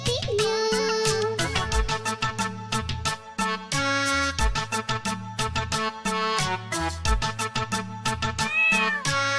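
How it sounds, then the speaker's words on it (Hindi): Cartoon cat meows woven into a children's rhyme song, with repeated bright meows over bouncy synthesized music and a steady bass beat. "बिल्ली करती म्याऊं"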